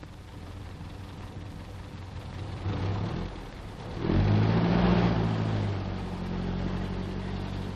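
A cable-laying lorry pulls away, its engine rising from a steady idle into a louder revving surge midway, then settling to a sustained rumbling drive, fairly close and with no talk.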